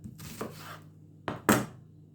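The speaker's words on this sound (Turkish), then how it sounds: "Bir büyük boy soğanım var. Julien doğrayacağız." Three sharp knife chops julienning a large onion on a cutting board, spaced irregularly, the last one loudest, with a low hum underneath.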